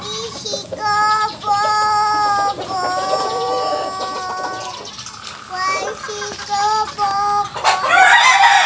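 Young gamecock stags crow in several repeated, harmonic calls close by, mixed with clucking from other fowl and a voice talking in the background.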